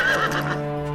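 A cartoon horse gives a single bright neigh, a shaky whinny that sits close and clear, then fades out over a soft low hum, with no talking.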